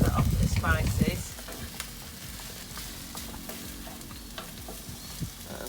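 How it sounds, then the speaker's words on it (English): Potatoes fry with spices in a single pan, a steady close sizzle with light stirring scrapes, louder at first and then settling into a softer continuous crackle. "So let's fry that off with the spices."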